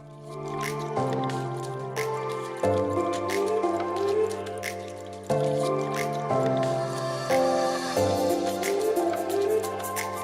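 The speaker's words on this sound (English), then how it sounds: "I am going to filter it out using like thin cloths like this, and just make sure that I only get the beautiful green juice." Pandan juice squeezed through thin cloth, wet squishing and dripping in repeated pulses over a steady tonal background, close and fairly loud with no talk.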